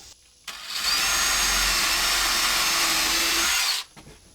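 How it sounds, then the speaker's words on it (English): A power drill bores through the side of a wooden cabinet in one loud, steady whine lasting about three seconds, starting and stopping abruptly and heard up close. "I'm gonna drill through the sides of the cabinet, make some holes so that when we slide it into the wall, we can screw it in sideways to the studs"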